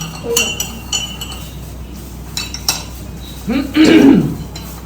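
Hair treatment being stirred in a cup, with light clinks and taps of a utensil against the cup's sides, followed by a louder burst of scraping and mixing near the end; no speech.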